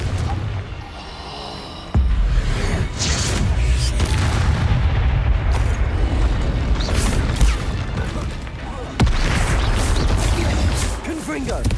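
Confringo fire spell blasts in Hogwarts Legacy, booming explosions in a loud, continuous spell-casting duel, with sudden heavy impacts near 2 and 9 seconds over sustained rumbling and clatter, with voiced spell shouts mixed in.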